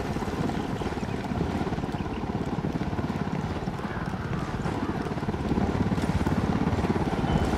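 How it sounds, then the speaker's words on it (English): A helicopter approaches in the video game Ghost Recon Wildlands: a fast, rhythmic rotor chop thuds loudly and steadily, growing slightly stronger toward the end. "We got a chopper coming in."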